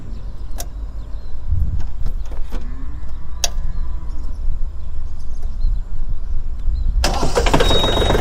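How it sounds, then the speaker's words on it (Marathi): A Mahindra OJA tractor engine cranks and starts: clicks and mechanical noises lead to a loud, broadband burst of engine running near the end, close to the microphone, with no talking. "आता मी इंजिन स्टार्ट करतो"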